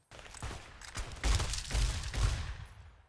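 Several sniper rifle shots from Fallout: New Vegas ring out in a rough, uneven burst, with heavy booming reports at about one-second intervals over ongoing gunfight noise.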